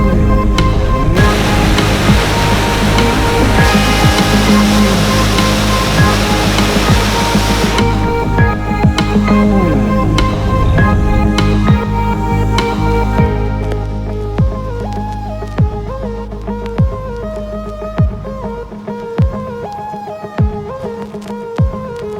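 A waterfall pours beside a dam while fishing, a loud, steady rushing roar of water that fills everything before easing to a lower, more distant wash with scattered splashy ticks.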